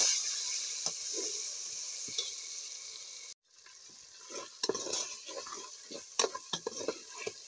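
A spoon stirs and scrapes through spices and tomato paste in a cooking pot for potato rice pulao, soft sizzling under repeated metallic clinks, with a brief silent break before the stirring resumes more busily, close and without talk.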